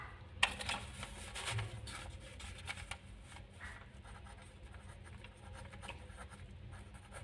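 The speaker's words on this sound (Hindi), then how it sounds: "मैं पहला क्वेश्चन लिखता हूँ।" A pen scratches steadily across paper close by as the first exercise question is written out by hand, soft continuous strokes with small pauses between words.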